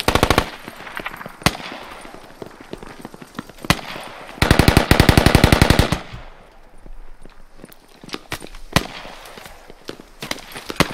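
Bursts of machine gun fire in the military shooter game Squad, loud and close, with short rattling volleys and a long sustained burst midway, scattered single shots and distant gunfire filling the gaps.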